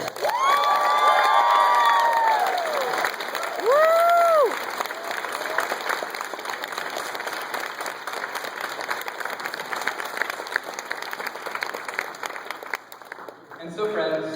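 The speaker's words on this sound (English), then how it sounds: "I'd like everyone to give a round of appreciative applause to Mr. Greg Esser." Audience applauding and cheering at a closing dinner, with loud clapping and excited shouts filling the room, including sharp whoops near the start, and sustained applause that continues steadily before fading at the end.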